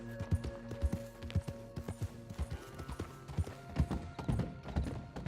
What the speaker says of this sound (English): That is one fine horse.